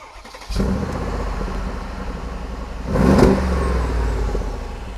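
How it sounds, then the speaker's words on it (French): A Mercedes G-Class engine starts with a sudden low rumble, settles into a steady idle, then revs up briefly around the middle before easing back to a loud, even drone. "On va peut-être passer sur l'avant et démarrer le véhicule."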